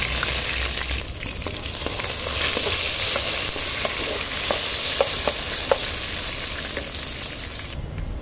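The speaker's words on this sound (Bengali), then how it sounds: "পেঁয়াজ গরম হয়ে গেছে, পেঁয়াজ দিয়ে দিই পোলাওর জন্য।" Onions fry in hot oil in a pan for pulao, giving a steady, dense sizzle throughout with occasional faint pops and stirring sounds.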